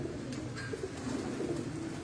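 Soft, low coos from pedigree racing pigeons repeat over a steady background hum, fairly faint and unhurried.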